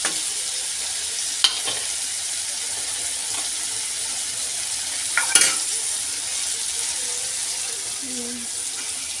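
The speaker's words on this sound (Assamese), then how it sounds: "এনেকৈ অলপ আলুখিনিৰ লগত ভাজিম" Broken boiled potatoes fry in a pan over lowered heat with a soft, steady sizzle, broken by a few sharp clanks of stirring; speech is heard now and then.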